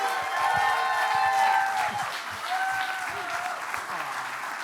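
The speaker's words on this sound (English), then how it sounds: "big of applause for our own in-house band" Enthusiastic applause for an in-house band fills the room, steady clapping with a few cheers, with music tones lingering faintly underneath.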